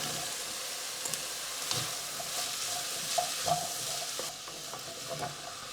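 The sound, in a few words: carrot leaves and carrots frying in a pan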